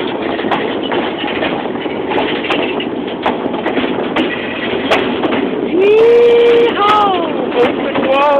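A freight train rolls onto a trestle from the perspective of a rider aboard, with a constant rumble and rhythmic clicking of wheels over joints, and high metallic squeals rising near the end.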